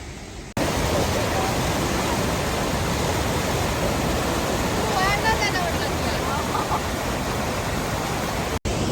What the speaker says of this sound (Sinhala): ඔයාලට පේනවා ඇති මේ දියැලේ වතුර පාර ගොඩක් සැර වෙලා තියෙනවා